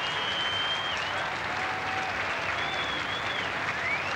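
A crowd at a Calgary Highlanders parade and colours presentation applauds steadily as Queen Elizabeth departs, a dense wash of clapping that goes on without a break, with a faint whistle gliding above it.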